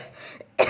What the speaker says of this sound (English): This is the type of a Drosera cough.